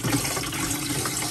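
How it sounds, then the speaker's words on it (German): Cold water pours steadily into a bucket nearby, a short gurgling rush with no voices. "Ich mache jetzt ein bisschen Wasser rein"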